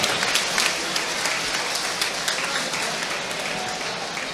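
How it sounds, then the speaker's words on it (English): Dense applause from a boxing crowd after a bout, a steady wash of clapping and crowd noise filling the arena at a fairly loud level throughout. "A big round of applause for both of these warriors here in the ring here tonight"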